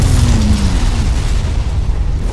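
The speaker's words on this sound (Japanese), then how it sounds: "こんだけどえらい爆発が起こってる" Big explosion in the video game Resident Evil 2, a loud, dense, rumbling blast that fills the whole moment without pause.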